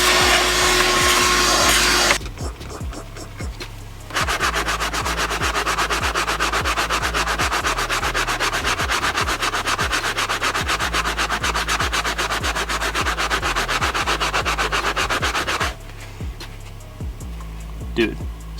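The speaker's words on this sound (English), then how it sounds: "We'll just vacuum it." A vacuum cleaner runs loudly and steadily inside a BMW F87 M2, its nozzle scraping and rubbing repeatedly against interior surfaces, briefly cutting off twice.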